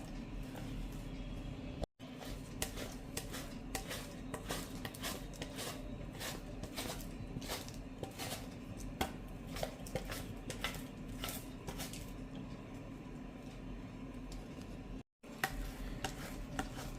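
Boiled potatoes being grated, a steady rapid rasping of strokes against a grater, close and even, briefly interrupted twice by short gaps.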